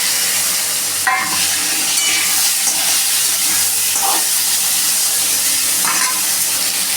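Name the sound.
potatoes and pointed gourd frying in oil with dried chilli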